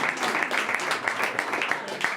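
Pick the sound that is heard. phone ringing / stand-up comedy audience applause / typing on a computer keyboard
stand-up comedy audience applause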